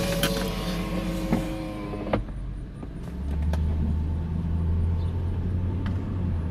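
A 1998 Lexus LS 400 with a worn strut rod driving along, a steady low road rumble and engine drone swelling after a few seconds, with a couple of brief knocks early on.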